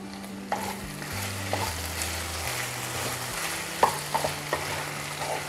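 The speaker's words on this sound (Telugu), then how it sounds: "ముందర తయారు చేసుకున్న అల్లం పచ్చిమిరకాయ పేస్ట్ వేసి ఒకసారి కలిపేసి ఒక 5 మినిట్స్ మగ్గనిద్దాం" A brinjal and potato curry with ginger-chili paste sizzles on low flame while a spoon stirs it, with scrapes and clinks against the pan rising over the steady frying hiss and a low hum underneath.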